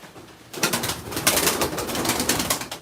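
Pigeons on a market stall counter: after a quiet start, a burst of fluttering wings and soft cooing rises close by and continues in busy, uneven pulses.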